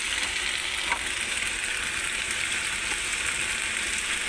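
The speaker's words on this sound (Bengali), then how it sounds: "আমি আলুটাকে আর কপিটাকে ভালো করে ভেজে নিচ্ছি" Diced potatoes and cauliflower florets frying in a pan give off a continuous, even sizzle with a soft hissing spatter, close and steady with no voices over it.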